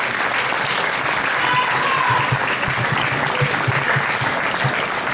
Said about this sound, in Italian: volevo farti godere tutti gli applausi possibili e immaginabili